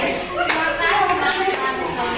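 Children in an Indonesian fifth-grade classroom clap a rhythmic chant, sharp hand claps landing in a quick patterned sequence over voices and background chatter.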